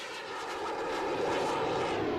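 A radio-controlled scale airplane engine buzzes past in a flyby, a steady droning whine that swells slightly louder as it approaches, with no talk.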